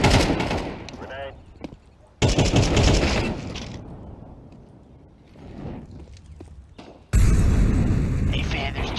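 An explosion and gunfire in Arma 3 come in sharp, loud bursts that cut in abruptly, with a quieter stretch between them and faint voices in the background.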